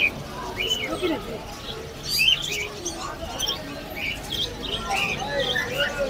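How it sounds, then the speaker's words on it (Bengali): Caged birds, including budgerigars and lovebirds, chirp and squawk in a busy Kolkata wholesale bird market, a dense mix of overlapping calls with people talking nearby. "কত সুন্দর সুন্দর পাখি এখানে"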